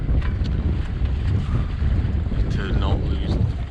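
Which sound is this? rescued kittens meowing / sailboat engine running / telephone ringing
sailboat engine running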